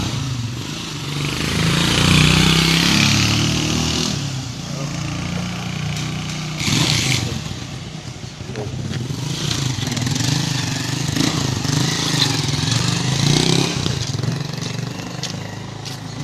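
A motorcycle engine runs nearby with a steady rumbling idle that rises and falls in loudness, set against a busy, noisy outdoor background, with no clear speech.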